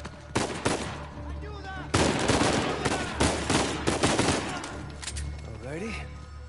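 Rapid gunfire bursts from the Uncharted 4 video game, loud and repeated in clusters with short gaps, under game music and effects, with a voice talking briefly near the end.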